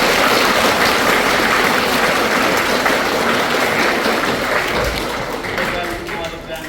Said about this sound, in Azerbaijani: bu balaca balalara da gürültülü bir alqış